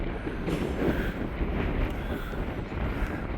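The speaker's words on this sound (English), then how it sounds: "She's pretty damn windy." Strong wind buffets the microphone at the back of a boat in Civitavecchia port, Italy, a steady roaring gust with a storm coming in, continuous and fairly loud with no talk.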